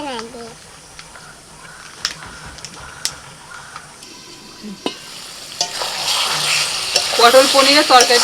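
Water is splashed into mixed vegetables frying in a pan. A quiet, intermittent scrape with clicks gives way to a loud, hissing sizzle that swells near the end, with a voice talking at the start.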